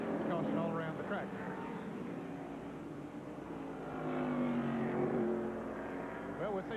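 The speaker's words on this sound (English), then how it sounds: "And here's Jimmy Spencer spinning around in the car." Race cars at the 1993 Save Mart Supermarkets 300k on a road course, their engines a steady, distant drone that swells and fades beneath continuous broadcast commentary.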